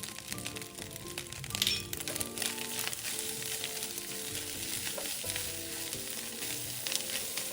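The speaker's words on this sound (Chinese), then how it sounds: "炒至米饭完全散开后" Rice being stir-fried in a wok, a steady dense sizzle with continuous scraping and tossing of the grains, loud and close throughout with no talking.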